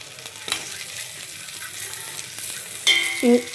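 Snacks roast slowly in a pan with a steady close sizzle, broken by a few stirring scrapes and a sharp metallic clank of a utensil near the end.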